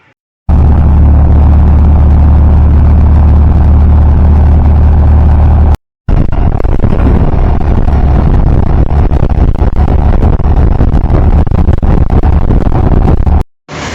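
A tuk-tuk engine putters loudly and steadily while passing a truck's exhaust on an Asian road, its rough mid-range drone filling nearly the whole span, broken by one brief cut, with no talking.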